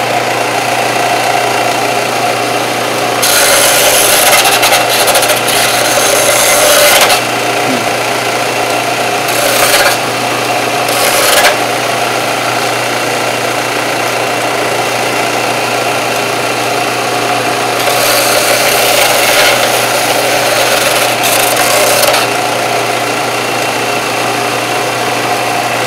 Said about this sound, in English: All your corners are sanded down and rounded off.